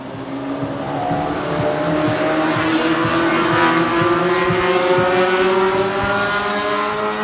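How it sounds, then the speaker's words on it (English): Cars on a road go by close and loud in a continuous roar, engine tones sliding steadily upward as they pass, with no talking heard. "Is that one car? Those are 2 cars."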